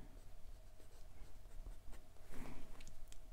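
An Asvine P30 piston-filler fountain pen with a medium size 6 steel nib scratches softly across Clairefontaine 90 gsm paper, faint close-up strokes with small taps and scrapes and no talking.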